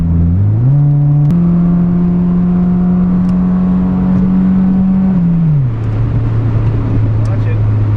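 A 1993 Honda Del Sol Si engine climbs steadily in pitch as it revs toward VTEC engagement, then holds a loud, steady drone from inside the cabin before dropping back, with no talk over it.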